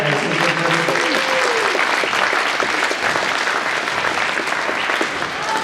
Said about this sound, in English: So how about a big round of applause for our principal and assistant principal.